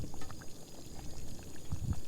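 Instant espresso crystals are poured into a mushroom gravy in a home kitchen, a soft, brief trickling pour under low kitchen background noise and no talk.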